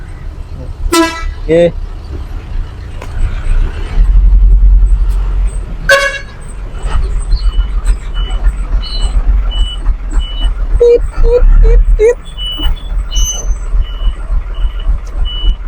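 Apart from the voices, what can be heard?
construction project truck passing by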